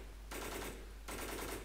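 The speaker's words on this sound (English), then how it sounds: "It's not shooting at where I'm aiming." Two sustained bursts of automatic gunfire from the survival shooter Infestation Survivor Stories, each a dense rattling volley about three-quarters of a second long, loud and with no talking.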